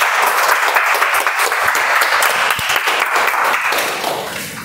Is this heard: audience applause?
yes